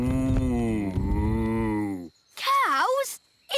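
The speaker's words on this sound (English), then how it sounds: "The cows can graze in this meadow." Cartoon cows grazing in a meadow give a long loud moo, then a wavering, bending moo after a short pause and a brief final call, all close and clear.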